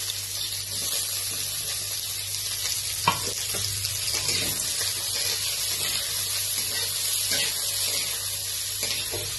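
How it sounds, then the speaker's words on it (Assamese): Onions sizzling and frying in hot oil for mutton curry, a steady crackling hiss up close with occasional stirring clinks. "মই পিয়াজটো হাফ ভাজা কৰি লম"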